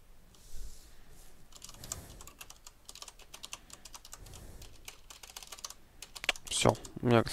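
Rapid computer keyboard typing, dense clicking bursts close to the mic throughout, with faint speech in the background and a few louder thuds near the end.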